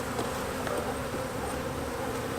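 Honey bees swarm around an opened spring beehive during a hive inspection, producing a dense, steady buzz that fills the air, close and continuous throughout.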